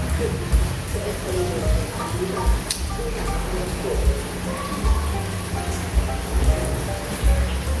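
Rain falls on a rainy morning with a steady patter and scattered droplet hits, and heavier low thuds come through at intervals, fairly close and continuous.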